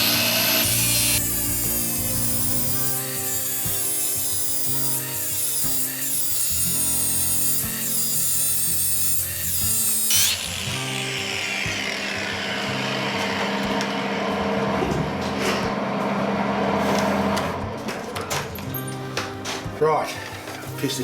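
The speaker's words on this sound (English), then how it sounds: "then I'll try machine it again" Metal lamp part, hard-cased stock, being machined on a lathe, a steady loud tonal grinding whine with shifting pitch that changes character halfway through, with a voice talking at times.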